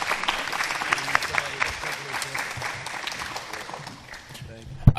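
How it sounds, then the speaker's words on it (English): Audience at a conference panel giving a round of applause, dense steady clapping from a room full of people that fades out near the end. "Can we give a quick round of applause for the panelists for being here and answering all the questions?"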